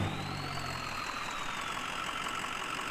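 A Chevy Duramax diesel pickup engine idles in the Spin Tires off-road game, a steady, even drone with a low rumble that fades slightly after the first half-second, heard alone with no talk.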